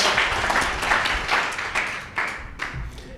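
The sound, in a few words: audience round of applause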